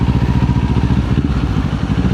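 Kawasaki Z400 parallel-twin motorcycle fitted with an R77 exhaust, running with a steady, throaty low-pitched pulsing rumble, loud and close, with no talk.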